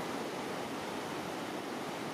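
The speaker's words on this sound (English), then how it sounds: "there's massive standing waves here that will fill up your boat" Class 4 whitewater rapids with massive standing waves on the Madawaska River rush in a steady, dense roar, fairly faint and unbroken.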